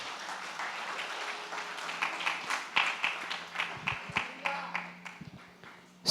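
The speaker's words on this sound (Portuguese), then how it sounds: "Dê uma salva de palmas para o Senhor agora." A church congregation applauds together in a steady run of claps that builds, then trails off into scattered final claps; moderately loud, with no talk over it.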